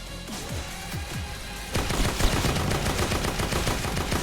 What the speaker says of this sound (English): You can see all the explosions.